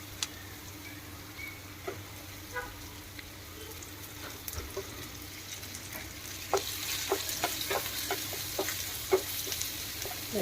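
Stuffed ridge gourd sautéing with onion and curry leaves in a pan, a soft steady sizzle with occasional spatula taps and scrapes that grow busier toward the end, close but fairly quiet.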